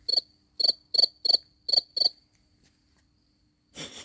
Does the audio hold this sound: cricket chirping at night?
yes